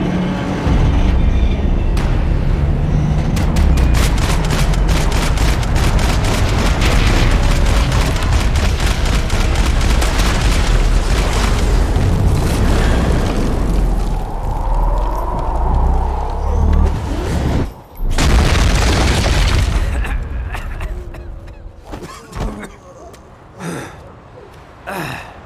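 Sustained loud gunfire and explosions from a Max Payne 3 shootout, rapid bursts of shots and booming blasts packed densely together, with a sudden cut and scattered shots trailing off toward the end.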